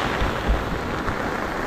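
Dense, heavy rain roars steadily at sea aboard a boat, with low rumbling gusts underneath, a constant wash of noise and no voices.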